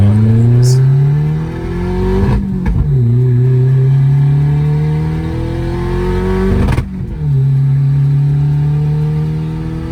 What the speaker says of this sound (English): This is a Evo 3. I can't hear anything else now because you made it pop.